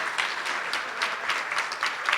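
Audience applause at a senior hall of fame award ceremony, a steady dense patter of many hands clapping at moderate volume throughout, with no talk over it.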